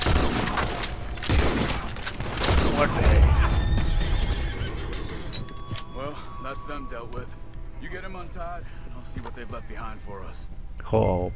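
Horse neighing in the video game Red Dead Redemption 2, a loud whinny near the start with hoof clatter and gunfire-like bangs, then a voice speaks over softer ambient game sound.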